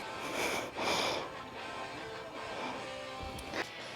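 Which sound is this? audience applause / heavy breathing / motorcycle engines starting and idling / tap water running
heavy breathing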